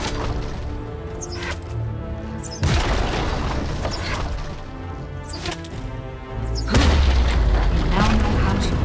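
An enemy turret is destroyed in League of Legends: Wild Rift, with loud booming impacts and crashing bursts over game music and effects, building to a heavier blast near the end.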